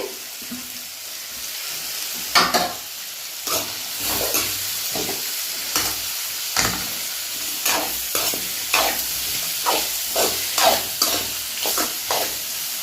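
Carrot pieces and green peas frying in a pan for a hotel-style puri curry, with a steady soft sizzle and repeated sharp scraping stirs at a regular rhythm, close and fairly loud, no voices.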